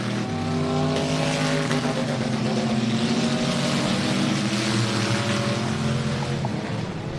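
A race car engine screams at high, steady revs, buzzing against the rev limiter as it passes close by on a racetrack, loud and continuous.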